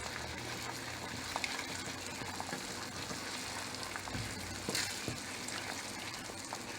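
Eggs being scrambled in butter in a pan for breakfast tacos, a steady close sizzle and crackle of frying over low heat, with faint scraping and stirring and no talk.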